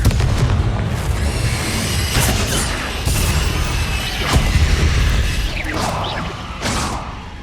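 A Confringo fire spell explodes in the Hogwarts Legacy video game, giving loud booming blasts with crashing debris and mechanical rattles, repeated over several seconds with no talking.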